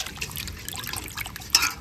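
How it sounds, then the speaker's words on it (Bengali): A cut pomfret fish being rinsed with water in a home kitchen before cooking in a mustard curry: soft, close trickling and dripping with light splashes, a little louder near the end. "এবার মাছটা ভালো করে ধুয়ে নিই।"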